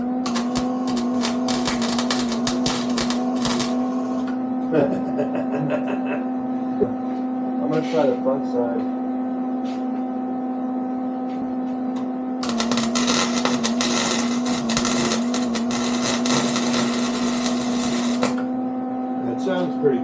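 MIG welding on a motorcycle trailer, a steady electrical hum with bursts of dense crackling sizzle in two long stretches, close by, with someone talking briefly in between.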